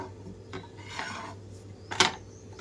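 A bottle gourd chapati flipped over on a hot pan, a light scrape and soft slap followed by a brief sharper clatter of utensil on metal.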